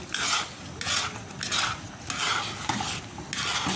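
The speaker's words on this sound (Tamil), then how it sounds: "இன்னும் ஒரு 15 நிமிஷம் கிண்டணும்" Tirunelveli ghee halwa stirred in a pan, a steady rhythm of scraping strokes, about six or seven clear passes of utensil against metal, close and moderately loud, with no voices.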